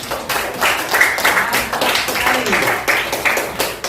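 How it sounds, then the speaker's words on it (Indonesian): Students in a classroom clap for group E after a science presentation, a lively patter of many hands close by with uneven bursts, and children's voices chatter through it. "Oke, tepuk tangan untuk kelompok E."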